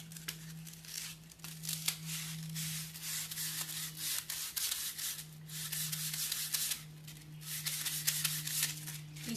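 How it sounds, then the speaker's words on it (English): Scuff sanding lacquer and sealer off a piece of furniture by hand, a steady rhythmic rasping of abrasive strokes over a constant low electrical hum, close and continuous for several seconds. "Scuff sanding, this is what I mean by scuff sanding."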